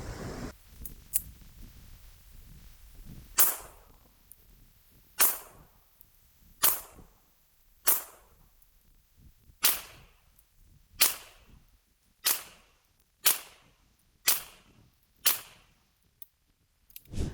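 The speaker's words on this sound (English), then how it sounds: "I'm gonna do 10 shots at 10 yards just to do a little practical accuracy." About ten sharp, loud pistol shots from an Alpha Foxtrot 2011 handgun fired at a 10-yard target, spaced roughly one to two seconds apart with brief ringing decay after each and no talking.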